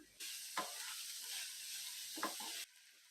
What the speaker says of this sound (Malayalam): ഈ സവാളയും മറ്റും നല്ലതുപോലെ ഒന്ന് വഴറ്റിയെടുക്കാം